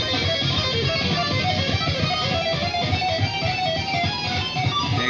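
A sustained electric guitar lead playing alone, dense and bright with continuous notes, moderately loud throughout.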